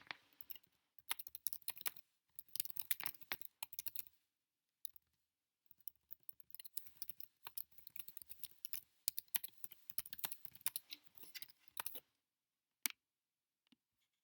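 Quiet, close typing on a computer keyboard, with bursts of rapid key clicks separated by short pauses and no talking.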